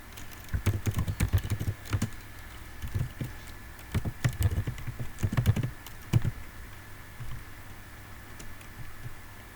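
JavaScript code being typed on a computer keyboard, close and fairly quiet, in irregular bursts of rapid key clicks with short pauses between them, no speech.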